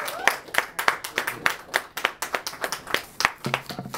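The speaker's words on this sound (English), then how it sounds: "let's give a round of applause to Danielle Bly." Applause at a civic proclamation event: a few people clapping close by, individual claps sharp and distinct in a fairly regular rhythm, sparse rather than a full crowd.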